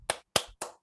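One person claps hands three times in quick, evenly spaced, sharp strikes, close and dry, with silence between each clap.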